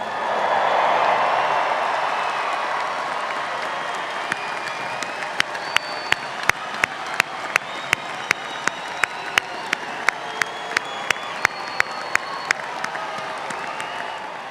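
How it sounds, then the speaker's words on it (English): Audience at a spring commencement ceremony applauding and cheering for graduates, a broad wash of clapping and crowd noise that gradually thins into a few loud, evenly spaced individual claps. "So please give your graduates a round of applause."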